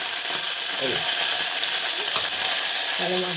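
Slit green chillies and curry leaves sizzle in hot oil with a loud, steady, close crackle throughout, and a faint voice briefly comes through beneath it.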